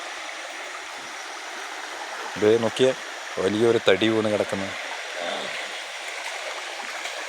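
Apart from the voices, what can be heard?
river water flowing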